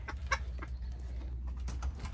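Soft clucks and a few short calls come from a small chicken inside a backyard coop, faint and intermittent against a steady low background hum.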